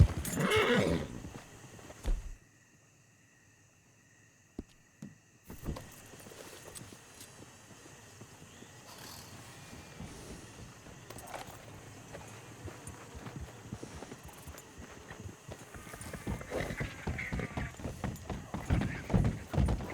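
In Red Dead Redemption 2, a horse whinnies loudly at the start, then after a brief silence, soft hoof clops and shuffling movement build gradually with some ambient noise.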